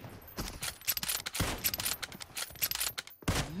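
Gunfire in a PUBG Mobile sniper-only match, a series of sharp close shots spaced irregularly, with a louder final report near the end followed by a short ringing tail.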